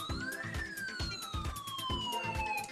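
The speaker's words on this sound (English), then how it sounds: "so let's sound the siren" A synthetic police-style siren sound effect wails in a rising then slowly falling sweep, loud and alone over a pulsing rhythmic beat with no talking.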